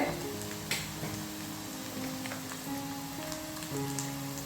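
Crushed dried red chilli sizzling in hot oil while making a colocasia stir-fry, a dense continuous crackle close up with a couple of sharper pops.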